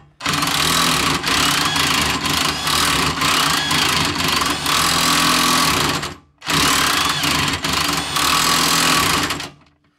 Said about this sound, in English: I'm going to use this gutless electric impact wrench